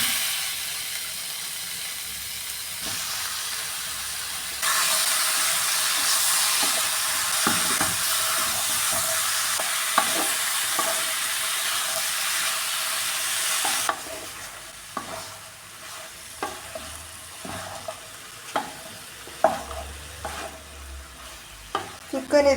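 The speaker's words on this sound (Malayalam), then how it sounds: "ചിക്കൻ ഇതിലിട്ട് നന്നായിട്ടൊന്ന് വഴറ്റി എടുത്തിട്ടുണ്ട്." Chicken sautéing with softened tomatoes in a pan for chicken curry, a steady broad sizzle that drops quieter partway through, with scattered scraping and stirring clicks of a spoon.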